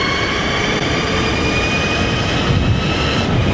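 Juiced JackRabbit electric bike, modified to 72V, accelerating at full throttle: a steady, loud rushing roar of wind and motor whine filling the whole span, with no voices.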